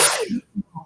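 A single sneeze bursts out loud and close at the start, followed by two short voiced murmurs.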